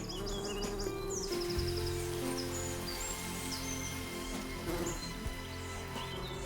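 A foraging honeybee buzzes steadily through a dense outdoor soundscape, the hum running continuously under chirping birds and other insects.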